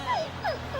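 A dog whimpers and yips in three short, rising-and-falling cries spaced across under a second, fairly close, with a low steady background hum.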